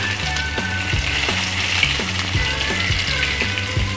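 Chopped onion fries in hot oil with bay leaves and cumin seeds, a steady close sizzle broken by regular scrapes and knocks of stirring.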